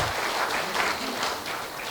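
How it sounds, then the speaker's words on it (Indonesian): An audience at an open senate session of an Islamic institute claps for the campus in a short, steady burst of applause. "kita berikan applause dan tepuk tangan buat kampus Al-Azhar"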